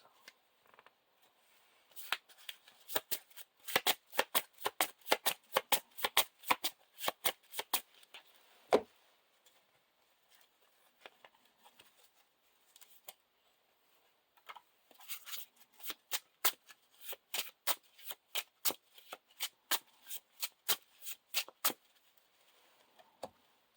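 Playing cards for the Lord of the Rings card game are shuffled by hand in two long bursts of rapid, crisp riffles, close and fairly quiet, with brief pauses between shuffles and no talking.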